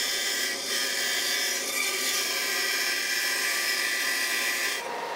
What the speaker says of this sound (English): Cut the curve on the bandsaw.